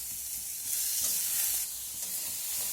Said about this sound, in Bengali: এবার পাকা টমেটো আর পেঁয়াজ একসঙ্গে নাড়াচাড়া করে ভেজে নেব।